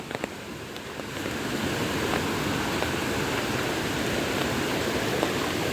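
Akeri Waterfall in Sindhudurg roars as a steady, dense rush of falling water, close and loud, swelling slightly after the first second and then holding constant with no voices.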